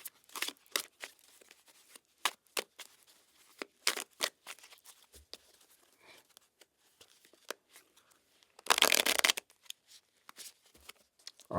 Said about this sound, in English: let's cut this deck